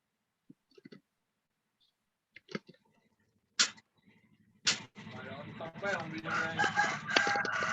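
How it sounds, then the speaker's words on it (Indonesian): A rooster crows loudly and at length near the end, preceded by scattered clicks and brief sounds in an otherwise quiet room. "Ayam siapa itu?"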